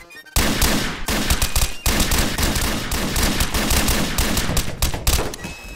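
Sustained automatic gunfire in Garry's Mod DarkRP, a loud dense stream of shots that runs almost continuously after a brief quiet start, with no voices over it.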